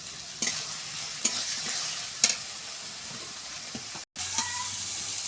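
Fried potato in spice paste crackles and sizzles in hot oil until it turns reddish, with periodic scraping stirs. The constant close hiss cuts out briefly, then returns.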